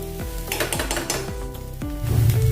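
Masala fries in a pan for chivda curry, a steady sizzle running under repeated scrapes and stirs of a utensil against the pan, close and fairly loud, with no talk.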